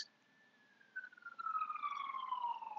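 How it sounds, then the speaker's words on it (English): A fire engine siren wails in the distance, its tone sliding slowly downward as it passes and grows a bit louder, with no talking. "Oh, you hear the sirens? They're calling me. I think it's the fire department's going by."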